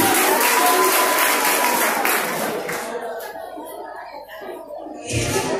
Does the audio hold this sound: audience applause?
yes